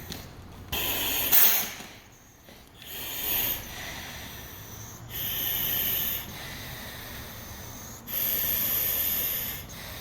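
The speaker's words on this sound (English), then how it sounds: "this is what it would sound like if I'm in your house breathing" Slow, rhythmic mechanical breathing through a firefighter's breathing apparatus mask: sharp hissing inhalations alternate with softer exhales and valve clicks, repeating about every two to three seconds.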